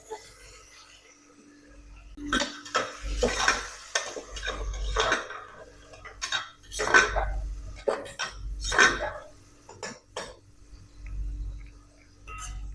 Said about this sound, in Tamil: ஸோ நான் இப்போ ஆனியன் எல்லாத்தையும் ஒன்றா போட போகிறோம்.